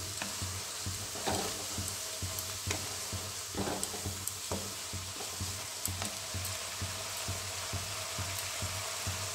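Spices sauté in oil in a pan for rajma, with a steady close sizzle and rhythmic stirring scrapes and clicks repeating throughout.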